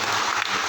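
Church congregation at a parish anniversary gathering breaking into applause, a dense steady wash of clapping that holds evenly through the short moment with no talk.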